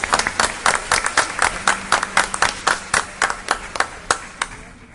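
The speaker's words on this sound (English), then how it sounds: "Round of applause." Sharp, rhythmic hand claps ring out steadily for several seconds at a school board meeting after a student mariachi performance, with a few individual clappers standing out over a smaller crowd.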